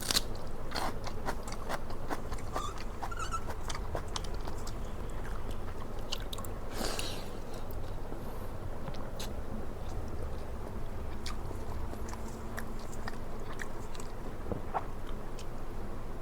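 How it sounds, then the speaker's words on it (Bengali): Raw onion bitten and chewed alongside panta bhat, fermented soaked rice, heard close up as repeated crunchy bites and wet chewing over a steady background hiss. "সেই সব পেঁয়াজ কামড়ে কামড়ে খেতেছি।"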